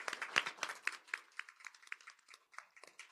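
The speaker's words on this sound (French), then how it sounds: "on a une dernière main d'applaudissements pour Laure Varidel et Bernard Derome" A final round of audience applause at a scholarship award ceremony, thinning out: distinct individual hand claps, sharp and irregular, from a modest crowd, fading toward scattered claps.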